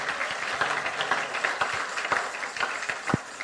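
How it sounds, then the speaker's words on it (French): A church congregation applauds steadily, with many hands clapping in an irregular patter of sharper individual claps over a continuous wash of applause. "Show it by clapping for the glory of God."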